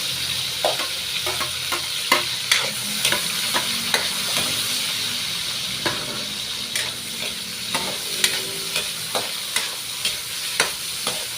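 Tomato, onion and chili fry in a hot pan, a constant close sizzle broken by regular sharp scrapes and clicks of a spatula stirring the mix, with no voices.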